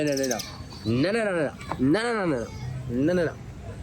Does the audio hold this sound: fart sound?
no